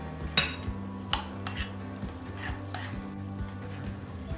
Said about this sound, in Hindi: तो मैं इसमें योगर्ट के अंदर मिक्स कर देती हूँ।